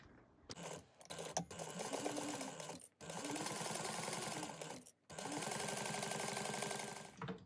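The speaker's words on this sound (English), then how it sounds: "you're going to sew around, so down one side and around back up at 1/8 of an inch" A sewing machine stitches around the edge of a small Mini E bag with steady rapid whirring runs, close and fairly quiet, broken by a few brief stops.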